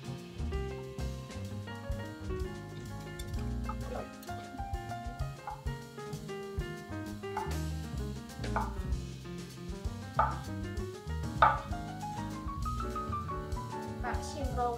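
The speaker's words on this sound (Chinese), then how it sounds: "我先切片，再切丝。" A knife slices a king oyster mushroom into strips on a cutting board, giving irregular light chopping taps that sit under louder background music throughout.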